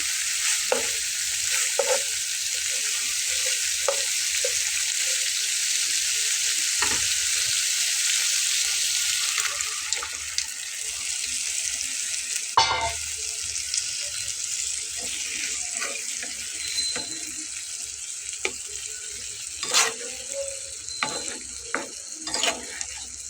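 Potatoes going into a pan of frying fish: a strong steady hiss of hot oil that eases partway through, followed by scattered crackles, clinks and stirring sounds up close.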